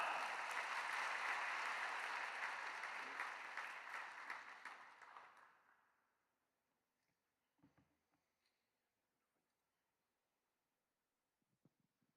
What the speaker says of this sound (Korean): 큰 박수로 목사님 맞이하겠습니다